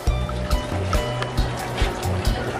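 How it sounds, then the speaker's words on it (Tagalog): A single air pump drives bubbling in a 50-gallon aquarium, a loud, close, continuous burbling and gurgling of water with rhythmic low pulses. "So ayan nakapresto na yung ating single air pump sa 50 gallons"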